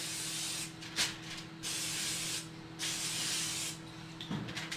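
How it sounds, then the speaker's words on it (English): Several hissing bursts of aerosol cooking spray, fairly close, separated by brief pauses, with no one talking. "spray the inside and out with the cooking spray"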